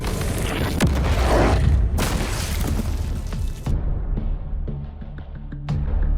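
A Colossus idol breaks apart in Shadow of the Colossus, with heavy booming crashes and shattering bursts, loud and close, followed by a rumbling decay.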